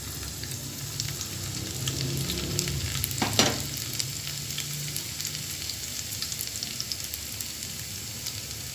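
Finely chopped garlic cloves sizzle in hot oil for a moong dal palak, a steady close frying hiss throughout with one brief stirring scrape partway through.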